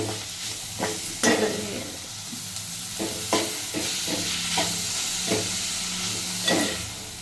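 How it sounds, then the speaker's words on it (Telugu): Fenugreek leaves frying in oil are stirred in a pan, a constant close sizzle with regular scraping strokes of the spoon, no voices. "ఇప్పుడు మెంతాకు వేస్తున్నాను. మెంతం ఆకు వేస్తున్నాను. ఇది మంచిగా కలుపుకోవాలి."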